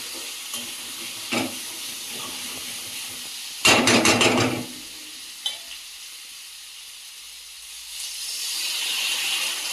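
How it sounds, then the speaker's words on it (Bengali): Water poured into a hot pan of fried curry base sets off a sudden loud hiss and sputter, which fades to a low steady simmer before a soft steamy hiss rises again near the end. "আর এইবার আমি জল দিয়ে দেবো।"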